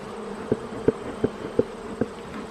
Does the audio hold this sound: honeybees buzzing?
yes